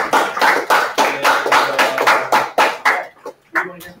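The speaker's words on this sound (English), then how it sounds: "Oh yeah, clap for Aloe. Clap for Aloe." A class clapping for a classmate after a talk in a classroom, a small group's close, loud claps in a quick uneven rhythm that thin out and stop, with brief speech near the end.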